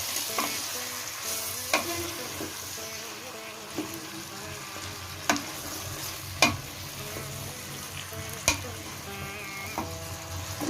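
Okra and mixed vegetables for Andhra-style sambar being stirred in a pan, with intermittent scraping clinks of the spoon over a steady background sizzle.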